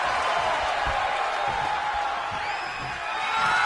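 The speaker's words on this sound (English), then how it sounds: "you hear this capacity crowd following you on that journey" Capacity crowd at a CWA wrestling match, a steady loud roar of many voices with cheers and whoops, continuous and close throughout without a break.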